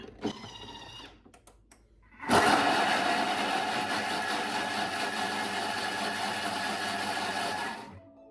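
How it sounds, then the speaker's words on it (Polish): A Thermomix TM6 blends pumpkin and pear cream soup at speed 8. After a few clicks its motor jumps to a loud, steady high whir that lasts about five seconds, then cuts off abruptly. "obroty są na 8 na 5 sekund, czyli mamy ostre miksowanie"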